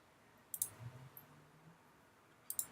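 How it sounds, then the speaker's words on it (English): A computer mouse is double-clicked twice while grouping shapes in 3D modeling software. The first pair of crisp, close clicks comes early and the second near the end, with faint room noise between. "double click to group it"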